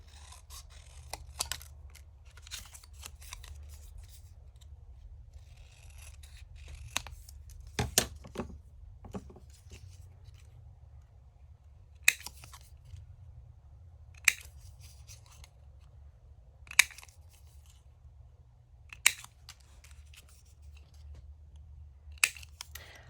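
Scissors snip through paper tickets cut from scrap card, sharp isolated crunches spaced a few seconds apart over a low steady hum, close and fairly quiet, with no talking.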